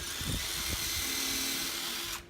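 A power drill pre-drills a hole through Hardiplank fiber-cement siding, a steady high whine held for about two seconds before stopping abruptly, with a few low knocks at the start.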